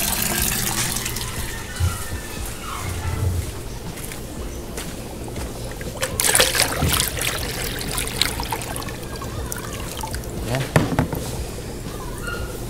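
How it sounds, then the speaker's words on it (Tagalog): Water is poured into a guppy tank, a steady splashing trickle running throughout at moderate loudness, with a few louder splashes partway through. "Tapos dagdagan natin ng tubig."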